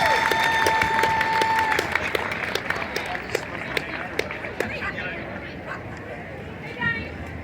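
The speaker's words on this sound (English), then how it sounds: "Let's give him a big round of applause one more time." An outdoor crowd applauding Brooks Herring at a Tunnel to Towers run and walk event in downtown South Carolina, scattered claps and cheers that thin out over several seconds, with some background chatter and a few brief tones mixed in.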